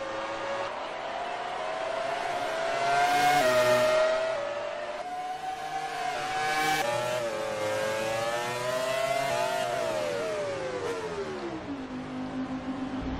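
Racing cars scream along the track in an Australian Grand Prix race. Engines rise and fall in pitch as they go through the gears and pass close by, loud and sustained throughout.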